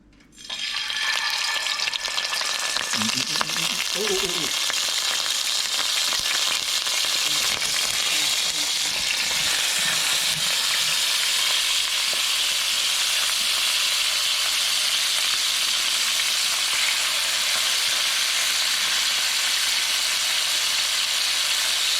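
Marinated chicken adobo pieces searing in a hot pan, a loud, steady sizzle that erupts at once and holds evenly for over twenty seconds, close and continuous with no talk.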